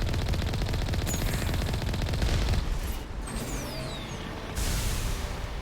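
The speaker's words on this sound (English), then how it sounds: "you can really snipe with this turret" Rapid turret gunfire from the Mass Effect video game, a dense, continuous stream of loud shots that eases off briefly midway before resuming with sharp whistling ricochets.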